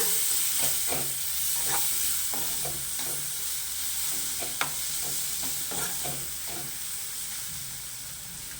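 Bottle gourd fry simmers in a pan, a soft continuous sizzle broken by repeated scraping stirs and light ladle taps at an uneven rhythm, moderately close and quiet, with no talking.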